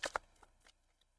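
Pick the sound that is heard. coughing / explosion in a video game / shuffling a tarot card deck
shuffling a tarot card deck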